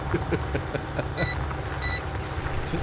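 A pink tractor rumbles along in Farming Simulator 17, its low steady engine drone running throughout, with faint intermittent beeps layered on top.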